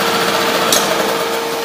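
A Hidea HDF6HS four-stroke 6 hp outboard boat motor runs at a steady, loud, high-pitched buzz, continuous and close with no pauses.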